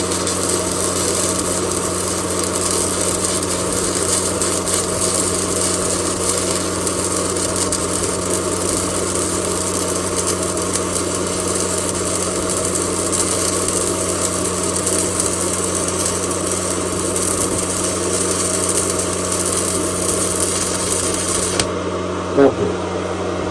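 Steady crackling hiss of stick welding with a Weldinger EW181W 180 A inverter welder set to 45 amps, a continuous buzzing arc with a low hum that runs unbroken until it cuts off near the end.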